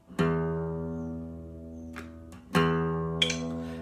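A single guitar string, low E, plucked twice and left to ring out, the same sustained note repeated while being tuned with a tuner app, with light handling noises.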